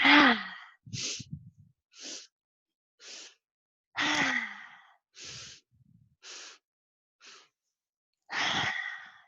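Deep breaths in and out during a guided breathing exercise, several long audible inhales and exhales with sighing releases, close and alone, evenly paced with pauses between.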